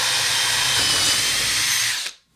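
A power drill bores a hole straight through a wooden cabinet for a handle, with a block of wood held underneath. It makes a steady, close whine for about two seconds, then cuts off abruptly.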